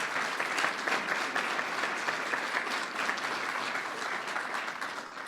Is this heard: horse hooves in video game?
no